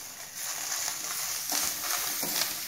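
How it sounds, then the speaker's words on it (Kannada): Ingredients frying in a little oil in a pan for Indian egg sambar, a steady broadband sizzle with a few brief stirring scrapes, close and moderately loud, with no one speaking. "ಇದನ್ನು ಈಗ ನಾವು ಫ್ರೈ ಮಾಡ್ಕೊಳ್ಳೋಣ."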